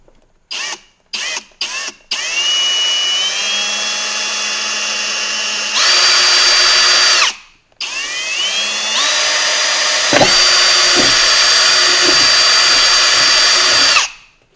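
A power drill bores into an Icy Dock MB975SP-B drive cage, starting with a few short trigger bursts, then long steady whining runs at shifting pitch, close and loud, broken by brief pauses.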